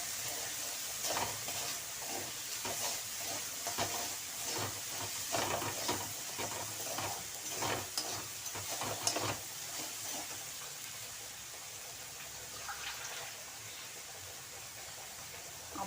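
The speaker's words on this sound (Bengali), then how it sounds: "এখন চালের সাথে মশলাটা ভালোভাবে কষিয়ে নেব" Rice and a ground coriander and cumin spice mix being sautéed in a pan, a soft steady sizzle and hiss with rhythmic stirring scrapes in the first half, fading to quieter frying, no talking, for a pointed gourd rice dish.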